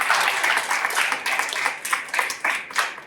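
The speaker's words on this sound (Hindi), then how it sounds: "क्यों ना एक और बार जोरदार सा तालियां दें" A church congregation claps loudly at the end of a sermon, a dense burst of hand claps with uneven swells and a few sharper individual claps standing out near the listener.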